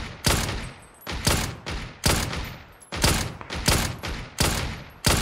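Gunfire comes in regular bursts in a shooter video game, about one loud burst every second, with sharp onsets and short decays, and no talk over it.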